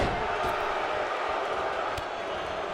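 Loud, dense arena crowd noise from a WWE 2K19 wrestling match, a steady roar of booing and jeering throughout with a few sharp impacts from the ring.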